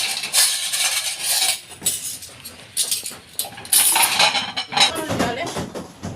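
Plates clink and clatter as they are stacked in a home kitchen during donut making, with bright, repeated ceramic knocks close by and no talk.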